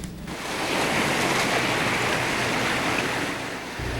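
Floodwater waves rush past close by in a flooded street during a hurricane, a loud, continuous surging wash with wind noise and no talk.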